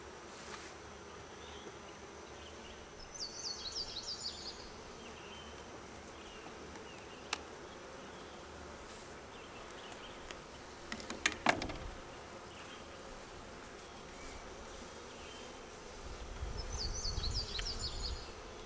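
Honey bees buzzing around an open hive during a first-week inspection, with a steady insect hum, louder swells near the start and end, and a few sharp handling clicks midway.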